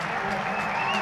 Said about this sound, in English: acknowledges the applause from the Indian changing room, and the applause and the congratulations of his partner Washington Sundar